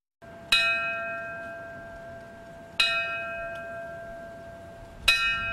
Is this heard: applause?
no